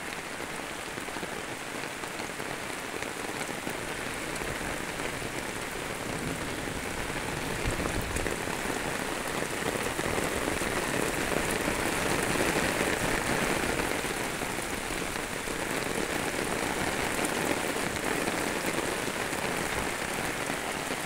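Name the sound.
heavy rain falling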